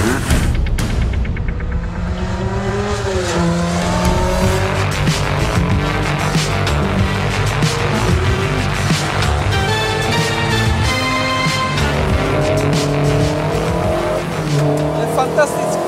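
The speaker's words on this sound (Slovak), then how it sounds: "A my vyzkoušíme, jak tahle 30 let stará Škodovka to bude dávat." A 30-year-old Škoda car driven hard on a rally stage, its engine revving up and down through quick gear changes with occasional tire squeal, loud and close from inside, with someone talking over it.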